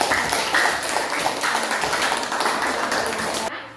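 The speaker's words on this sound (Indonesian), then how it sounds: "mari kita tepuk tangan untuk kelompok" Dense crowd applause from a classroom audience for a presenting student group, steady and sustained before cutting off abruptly near the end.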